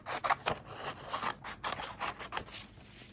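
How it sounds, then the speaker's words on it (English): Scissors cut out paper for a pumpkin-themed fall journal spread, giving a quick run of close, crisp snips and slides in an uneven rhythm, with no voices. "now I have to cut out another one"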